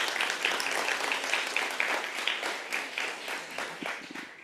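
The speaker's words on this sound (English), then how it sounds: "let's give them a round of applause" Applause from the audience at a women's empowerment summit, a steady wash of many hands clapping, moderately distant, continuing for several seconds without speech.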